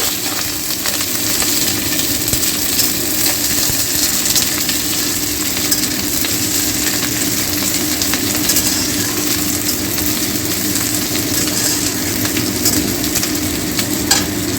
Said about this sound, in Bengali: তেল গরম হয়ে গেছে, সর্ষের তেল দিয়ে দিয়েছি এর মধ্যে। এবার এর মধ্যে দিয়ে দিচ্ছি 4টে পেঁয়াজ কুচি করে দিয়ে দিচ্ছি